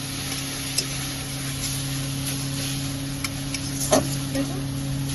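Spinach stirred with turmeric powder and ginger paste in a frying pan, a steady low sizzle under a constant hum, with a few faint scrapes and clicks of the spoon.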